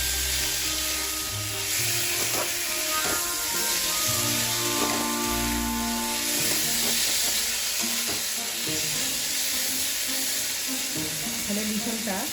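Spices fry and get stirred in a pan for a jackfruit seed and potato curry, a steady close sizzle with scraping strokes of the spoon, alone without talk.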